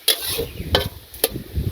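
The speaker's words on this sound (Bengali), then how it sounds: "এখন একটা সবজি রান্না করবো। সবজি রান্না চলছে আর কি।" A mixed vegetable dish of ridge gourd, potato and green papaya cooks in a pan in a village kitchen. A faint sizzle runs underneath, broken by a few quick scrapes and taps of a stirring utensil.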